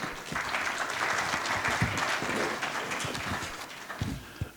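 Sustained applause from the audience at a francophone African countries' symposium, a dense wash of clapping that holds steady, with a few sharper individual claps standing out toward the end.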